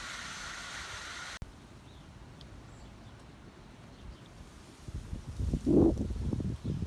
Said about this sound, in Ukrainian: У нас такий сильний вітер дуже.